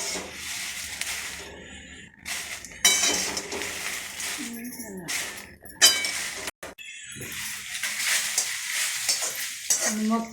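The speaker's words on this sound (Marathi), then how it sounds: "अशा मंद मिरच्या भाजून घ्यायच्या" Red chilies dry roasting in a pan on low heat, with intermittent scraping and stirring, light clinks of a utensil against metal and soft crackle between pauses, heard close.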